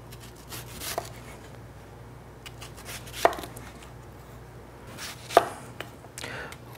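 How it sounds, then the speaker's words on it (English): Thick slices of fresh green tomatoes from the garden being cut with a kitchen knife, a few sharp separate knocks on the board spaced seconds apart over faint background noise, near and with no talk. "we're just going to cut up some green tomatoes here"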